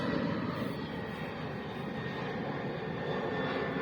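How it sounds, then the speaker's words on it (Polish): A small propeller airplane flies toward Okęcie airport in Warsaw, a steady broadband engine drone holding at an even level throughout with no talk. "Oj, samolot, zobaczcie leci na lotnisko w Okęcie."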